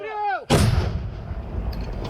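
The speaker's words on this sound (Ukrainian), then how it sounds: "Постріл!" A single loud gunshot booms close by at a frontline trench near Klishchiivka, cutting off a brief whistling tone, followed by a rumbling, echoing tail.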